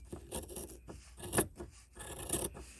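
Scissors trimming excess fabric on a foundation-pieced quilt block, a few soft rasping snips and rubs close by, with no talking.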